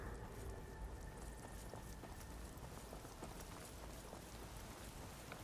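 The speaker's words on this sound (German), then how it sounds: "dass es regnet in dem Spiel, aber ab und zu haben wir hier auch mal schlechtes Wetter." Rain in the Skyrim game falls around Whiterun, heard as a faint, steady patter with soft scattered drops throughout. No other sound stands out.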